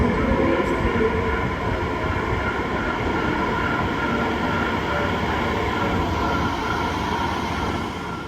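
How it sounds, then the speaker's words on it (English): An underground train pulls into the Heathrow Terminals 2 and 3 station platform at London's Heathrow Airport, a loud, steady rumble and rolling roar that fills the space throughout, easing slightly at the very end. "Please stand back from the platform edge as the next train approaches."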